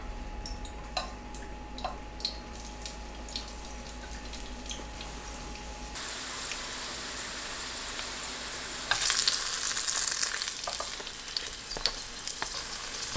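Sweet potato dumplings pan-fry in cooking oil over medium-low heat, a soft steady sizzle with scattered small pops that grows louder and hissier partway through.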